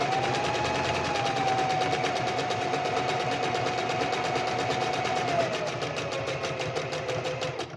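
Sewing machine stitching a thin piece of fabric, a fast, steady mechanical rattle running continuously and close before it slows and stops at the end.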